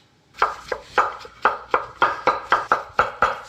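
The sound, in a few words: chopping mushroom stems into small pieces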